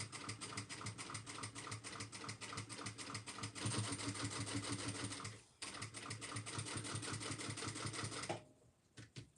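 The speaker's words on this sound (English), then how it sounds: "Put my needle down at that corner and back stitch, and then continue to go on the other side." A sewing machine stitches a crossbody bag, fast regular needle clatter that pauses briefly, restarts for back stitching, then stops; close and steady with no talking.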